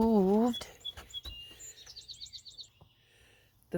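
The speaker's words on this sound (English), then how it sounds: "Oh, hear those birds?" Birds chirp and tweet in quick repeated trills outdoors, fairly clear, after a brief burst of a person's voice at the start.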